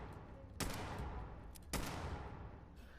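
Weapon fire in the video game Fallout 76, two sharp, loud shots about a second apart, each followed by a long decaying echo, with no talking.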